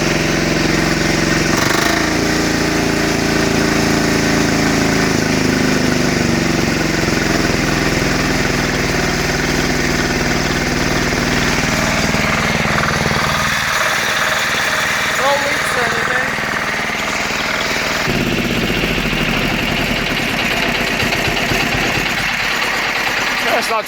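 A 10HP diesel Roper/Sears garden tractor engine runs steadily with a low, rough idle drone throughout, close and loud, with occasional rev changes and someone talking over it.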